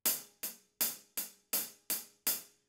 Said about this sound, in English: or you might use the thicker part of the stick called the shank.